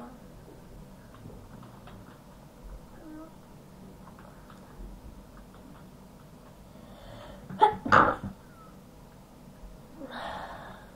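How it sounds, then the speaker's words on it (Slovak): A single sharp sneeze bursts out near the mic, loud against quiet background hum, followed by a faint breathy after-sound. "Prepáčte, ja som si kýchol."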